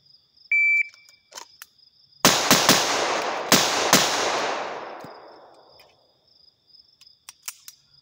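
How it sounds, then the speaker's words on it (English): Gunshots fired during a shooting drill: five sharp, loud reports in quick succession, with echoes ringing out and fading over a few seconds, plus a brief electronic beep at the start and a faint background hum. "last one is 4 rounds center mass, 1 round the head,"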